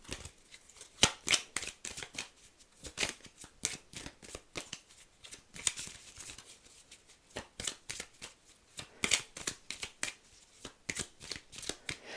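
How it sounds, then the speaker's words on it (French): Tarot cards are shuffled by hand in a quick, uneven run of crisp riffling bursts and soft slaps, close and fairly quiet. The pace slows a little partway through, and there is a brief murmur of speech. "Je me rends compte que je ralentis la façon dont je bats les cartes là."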